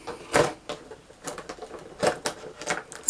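A knife cuts a Sindy or Barbie doll free from its plastic and cardboard packaging, giving irregular close clicks, snips and scraping taps in quick succession.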